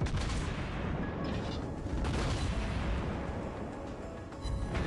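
Secondary guns on a battleship in a naval combat video game fire in a dense, continuous barrage of booming reports, loud and close, with no clear gaps between shots.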